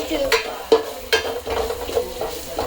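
Pork roast frying in a pan as it is stirred, a close sizzle broken by several sharp scraping strokes of the spoon at irregular intervals, with no voices.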